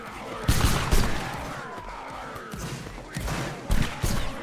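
Muskets fire in ragged volleys during a Napoleonic-era battle in a multiplayer video game, with several sharp gunshot cracks in quick clusters and talking faint underneath.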